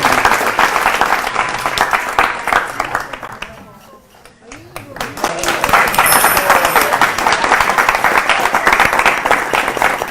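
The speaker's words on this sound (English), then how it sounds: "A big round of applause for" Audience applause at a Sunday feast lecture in Baltimore, loud dense clapping from a crowd that dips briefly mid-way and then swells back to full strength.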